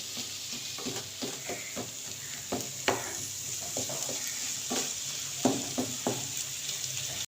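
Semolina roasting in a pan and stirred with a spoon, a steady dry sizzle under repeated scraping and tapping strokes against the metal, close up with no voices.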